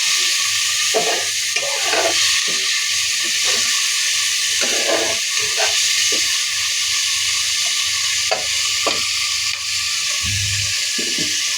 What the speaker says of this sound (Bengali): মশলার সঙ্গে এখন মাছকে কষিয়ে নেব।